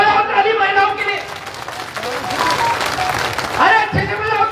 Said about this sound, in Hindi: जरा बजाओ ताली महिलाओं के लिए